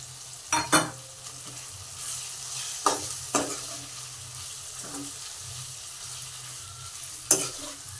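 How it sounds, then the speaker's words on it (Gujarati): Potato pieces fry in a pan for a poha-and-potato dish, with a steady close sizzle and several sharp scraping knocks from a stirring spoon spaced through the clip. "હવે નાખશું આપણે જે બટેકા"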